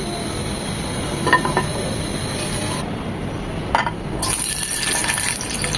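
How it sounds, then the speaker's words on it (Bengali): A spoonful of soybean oil poured into a frying pan, heard as a soft, brief liquid splash and faint clinks over a steady hiss of kitchen background, near and fairly quiet, with no talk. "ভাজার জন্য প্যানে দিয়ে দিচ্ছি এক চামচ সয়াবিন তেল"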